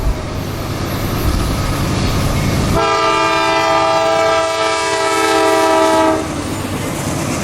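A CSX freight train, Q689, on the ex-Atlantic Coast Line Fitzgerald subdivision in Cordele, Georgia, rumbles past while its horn blares in one long, loud chord before cutting off.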